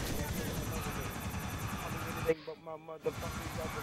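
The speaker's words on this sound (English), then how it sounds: "Stuck in the helicopters!" A loud, throbbing helicopter rotor drones continuously in the video game GTA IV, briefly cutting out to near silence with a few clunks before returning at full level.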